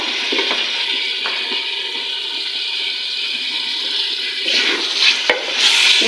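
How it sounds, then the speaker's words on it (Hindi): Chicken frying with onions in a pan for tahari-style biryani: a steady, hissing sizzle runs throughout, with a few stirring scrapes and clinks near the end. "इस तरीके से हम चिकन को फ्राई करेंगे।"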